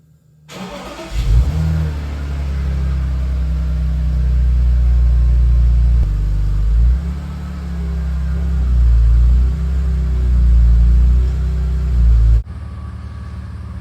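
A BMW E46 330Ci engine cranks and catches, revs briefly, then settles into a loud, steady idle with slight fluctuations before cutting off abruptly.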